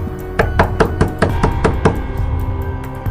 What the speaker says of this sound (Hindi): अनुज को दरवाजा खटखटाने की आवाज़ सुनाई दी